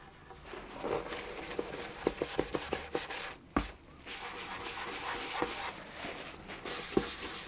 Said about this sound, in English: using the file and the acrylic paint, I added some more scratches and dents